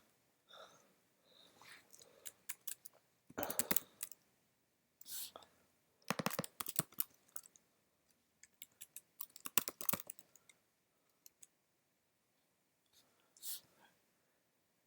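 Typing on a computer keyboard, close, quiet irregular bursts of key clicks with pauses between, soft speech faintly under it.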